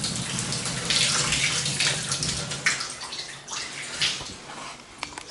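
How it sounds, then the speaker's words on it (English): A shower running in a bathroom, a loud, close, steady hiss of spraying water with splashes and gurgles that shift as the flow changes, with no talking. "shower works really well."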